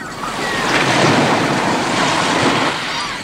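Sea waves wash in a steady, loud broadband roar with wind noise, surging gently across the whole stretch with no voices.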